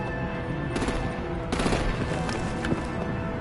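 Gunfire during a Batman Telltale action scene, heard as a continuous, loud crackle of automatic shots with a few stronger bursts layered over dense background noise.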